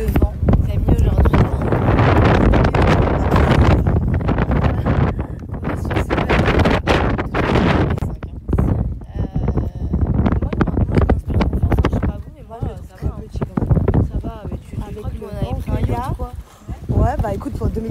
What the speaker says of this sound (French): Bon, il y a beaucoup de vent.